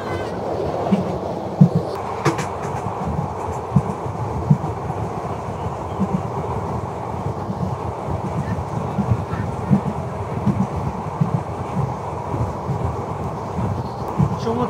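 Passenger train running from Dhaka to Cox's Bazar at speed through cut hillside, heard as a steady close rumble with rhythmic clacking of wheels on track throughout.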